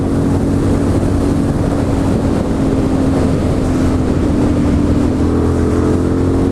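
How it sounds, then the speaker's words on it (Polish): A loud, steady motorcycle engine drone runs the whole time, rumbling low with constant wind buffeting and no voices. "Ale zajebiście głosny motor."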